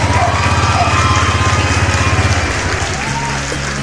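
Honda Click 125 scooter engine starting on one press and settling into a close, loud idle, with a rapid, even pulse that smooths out toward the end.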